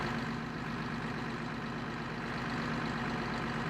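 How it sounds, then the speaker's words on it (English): A new combine harvester engine idling at a steady, fairly quiet hum with a constant low tone and no talk. "Listen to the engine."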